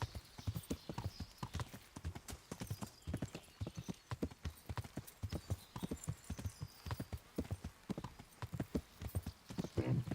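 A single horse's hooves clip-clop in a steady, even rhythm on a hard surface, close and distinct, continuing throughout with no talk over it.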